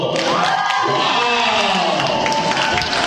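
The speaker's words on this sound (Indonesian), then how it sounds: "Kita berikan tepuk tangan dulu" Loud, steady applause mixed with cheering comes from an audience at a school quiz competition in Central Sulawesi. A voice speaks over the clapping crowd throughout.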